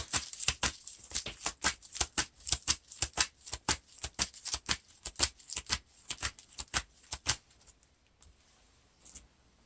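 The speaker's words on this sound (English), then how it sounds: "Now we shuffle the encounter deck." Rapid, crisp riffle of cards being shuffled, a fast run of sharp clicks close up that slows and stops near the end.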